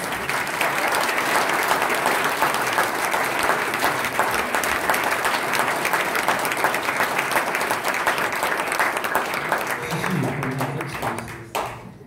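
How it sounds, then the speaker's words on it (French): A crowd at an official campaign launch evening applauds a candidate, Benoît Héraclas, with loud, dense, sustained clapping that fills the room before tapering off at the end. "Je demanderai un tonnerre d'applaudissements pour notre candidat Benoît Héraclas"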